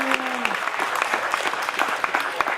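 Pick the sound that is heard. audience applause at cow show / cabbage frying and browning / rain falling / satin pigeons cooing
audience applause at cow show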